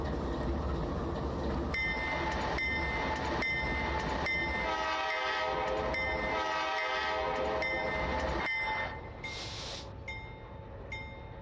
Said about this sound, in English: I love that custom horn and that custom bell sound.